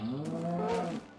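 A cow in Minecraft 1.8 lets out a single drawn-out moo, loud and close, holding its tone for about a second before fading out.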